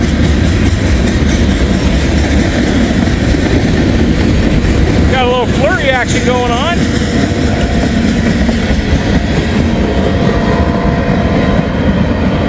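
A CSX bulk freight train with Canadian locomotive power rumbles by loudly and steadily in light snow flurries, while someone talks briefly over the noise partway through.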